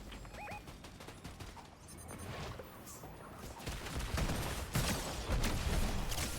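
Bursts of gunfire from an opposing team in the video game Fortnite crackle through a dense, busy game mix, growing louder and more clustered in the second half.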